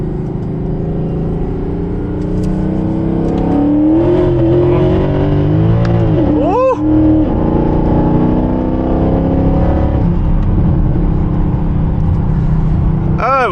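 A repaired Mercedes E63 AMG on snow tires rolls into higher speed. Its loud, steady engine roar drones from inside the car and rises in pitch partway through, with a brief whine-like sweep layered over the rumble.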